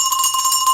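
A bell rings with a bright, steady sustained tone, loud and close, lingering through the whole short moment with no speech.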